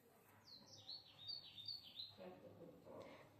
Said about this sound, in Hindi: चिड़िया कहाँ से बोल रही चिड़िया?